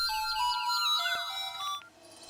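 An outgoing phone call rings in a Hindi-dubbed action film scene: a bright electronic melodic tone with chirping notes plays steadily for about two seconds, then cuts off, with no voices.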